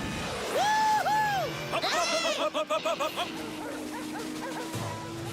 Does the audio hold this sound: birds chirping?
no